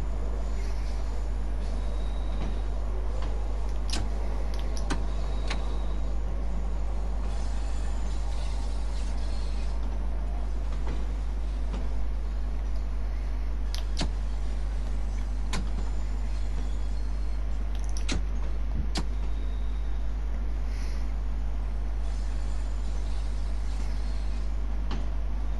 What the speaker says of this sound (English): the train's just going to plod on down the service tunnel